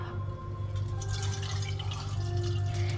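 Cloudy rice rinse water is poured out of a pot, giving irregular trickling and splashing over a steady low hum, close and moderate in level, without any talking.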